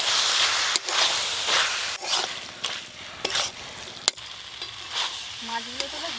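Prawns and garam masala stirred into a banana flower curry in a frying pan, a steady close sizzle broken by sharp scraping strokes of the spoon every second or so.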